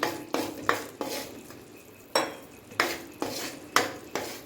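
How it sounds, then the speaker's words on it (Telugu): Sugar syrup for puffed rice laddu is stirred in a pan. Rhythmic scraping strokes of a spoon against the metal repeat roughly every half second over a faint bubbling sizzle, loud and close, with no voices. "ఇంకొక 2-3 మినిట్స్ ఇలా బాగా చేసుకొని పాకం వచ్చే వరకు కూడా మనం ఇలా కలుపుతూ ఉండాలి"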